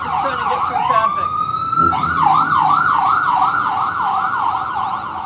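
A loud ambulance siren sits in traffic at a stoplight in the Smoky Mountains of Tennessee. It opens in a fast yelp, holds one long tone, then settles into a steady wail of rising and falling sweeps.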